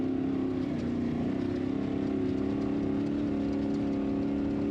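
An Ultra4 off-road race car engine on the final lap of the Laughlin Desert Classic, heard as a steady, continuous mid-pitched drone with a slight rise in tone partway through, unbroken and fairly distant.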